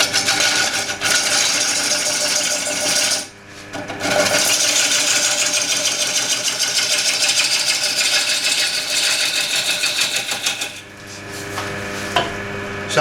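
A wood lathe spins an old wood platter as a gouge strips away waste wood, giving a loud continuous scraping whir with two brief dips where the cut pauses.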